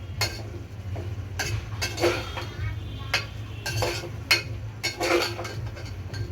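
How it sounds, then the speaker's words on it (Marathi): Spices and vegetables stirred together in a cooking pot for a quick paneer pulao, a metal spoon scraping and clinking against the pot in irregular strokes over a low steady background hum. "आपण हे सगळं मसाले आता एकजीव होतील असे एकत्र मिक्स करून घेऊया"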